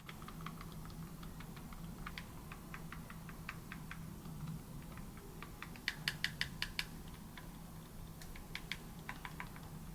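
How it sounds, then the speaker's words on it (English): Rapid soft clicking of a pro game controller's D-pad buttons pressed repeatedly in quick bursts, quiet and muted over a low steady hum. "The D-pad has a muted sound when pressed"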